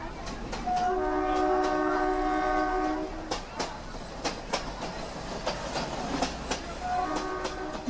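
Locomotive horn blasts at a railway shed, one long sustained call followed by a second starting near the end, over a steady rumble and clatter of engines and rail traffic.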